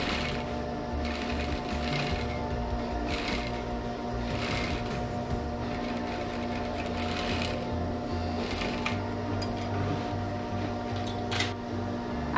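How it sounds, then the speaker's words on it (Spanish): Sewing machine running continuously while topstitching the back seam of a pair of jeans, a steady rapid mechanical stitching rhythm heard up close with no talking. "Vamos a pespuntar la parte posterior del pantalón."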